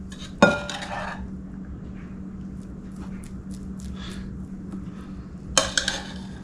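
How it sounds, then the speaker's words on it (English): Jasmine rice scooped into a bowl: a spoon clinks sharply against the dish at the start, a soft scraping lull follows, then another cluster of clinks near the end, close and clear with no talk. "we're going to scoop generous amounts of the rice into this bowl"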